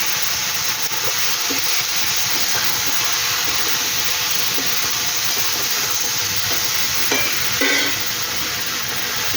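Chopped vegetables frying in a pan for a fish head curry, giving a steady close sizzle and hiss with occasional stirring scrapes and small clinks throughout, with no voices.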